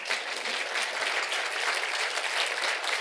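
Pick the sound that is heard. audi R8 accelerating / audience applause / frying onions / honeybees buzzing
audience applause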